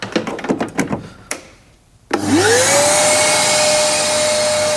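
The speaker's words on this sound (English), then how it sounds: "Got a shop hoover here that we're going to run off the inverter." A shop vacuum powered from a van's battery inverter switches on after some clicks and taps, its motor whining up in pitch and settling into a loud, steady roar close by.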